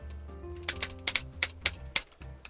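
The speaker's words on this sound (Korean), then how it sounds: "클릭 관절이 단단한 건 좋은데 좀 잘 안 움직이는 클릭이 있어요." Ratchet click joints on a Lioobot-compatible Kaiser toy robot figure being posed, a quick run of about eight sharp, close plastic clicks in an uneven rhythm over a low background hum.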